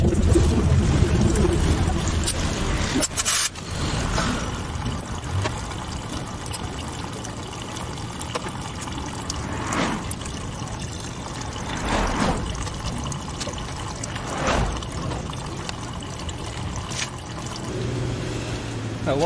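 Old coolant drains and trickles out of a 1997 Honda Civic engine with a blown head gasket, a steady pouring flow with occasional clanks and knocks from work nearby.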